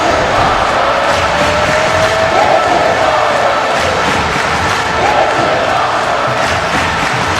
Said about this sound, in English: You can hear the crowd's appreciation for this one.